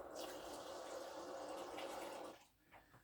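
Tap water rushes steadily into a container for a washing machine conditioner dose, a loud continuous hiss that cuts off abruptly, leaving faint drips and small clunks.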